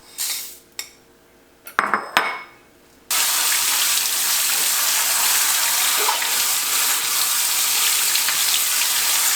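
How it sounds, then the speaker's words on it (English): Brown lentils are rinsed under a running tap, with a few clinks of a pot and utensils first, then a loud, steady rush of water that runs without break to the end. "So I'm just going to rinse these off, make sure there's no little rocks or, get all the dirt off"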